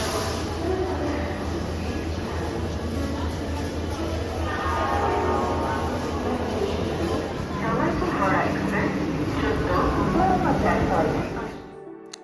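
A train stands at a busy railway platform on a trip to Puri, with a steady low rumble and hum, station clatter and indistinct voices, ending abruptly.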